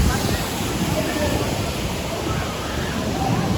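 Water in the lazy river at Typhoon Lagoon water park makes a steady, close rushing wash that runs without a break, with no clear talk over it.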